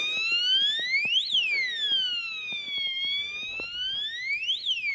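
An outdoor alarm siren wails on an ice-covered Appalachian road, its loud rising and falling sweep repeating in slow cycles, with small clicks and knocks beneath it.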